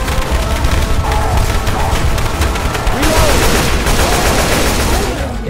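Dense, continuous gunfire from Left 4 Dead 2 zombie-survival play, loud and sustained rattling with cluttered background game noise throughout.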